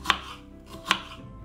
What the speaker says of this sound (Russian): Перец небольшой тоже разрезаем на 4 части и нарезаем тонкими полосочками.